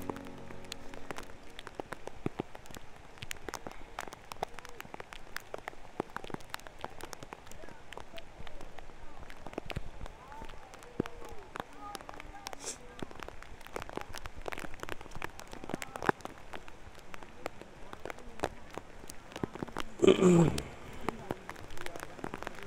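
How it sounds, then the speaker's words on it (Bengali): Heavy rain falls at the Sahasradhara waterfall area in Sitakunda, a fairly quiet, steady patter of drops with scattered sharper taps and occasional voices in the background. "তুমুল বৃষ্টি হচ্ছে এখন"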